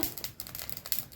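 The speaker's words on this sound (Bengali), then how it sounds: "দেখো সর্ষেগুলো কেমন চটপট করে ফুটছে" Mustard seeds popping in a hot pan, a dense run of tiny crackling pops and snaps that are quick and close, with no talk.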